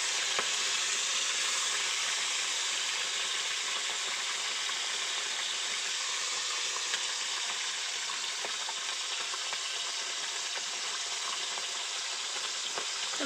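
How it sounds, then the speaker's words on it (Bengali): Bhola fish frying in hot oil, a dense, even crackling sizzle that holds steady and fairly quiet throughout, with no voices. "তো তেলটা গরম হয়ে গেছে, এবার আমি মাছগুলো ভেজে নেব।"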